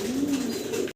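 A yellow Shallow pigeon gives a single brief, low, soft coo, close and quiet, with no other sound around it.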